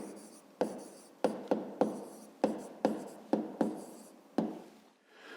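Pen or pencil writing on paper, about a dozen quick scratchy strokes in an irregular rhythm, close and faint with no talk.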